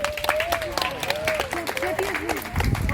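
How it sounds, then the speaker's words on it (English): Outdoor audience clapping for Papaya the toucan after a bird show at a safari park in Ontario, scattered applause running under an amplified announcer's voice and bird calls. "Let's give a big round of applause for Papaya."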